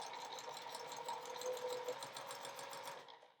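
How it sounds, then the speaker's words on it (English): A sewing machine stitches a 1/4 inch seam on quilt squares with a 1/4 inch presser foot, a steady, rapid mechanical whir with fine rhythmic ticking, close and moderately quiet, stopping just before the end. "I'm going to sew a 1/4 inch seam"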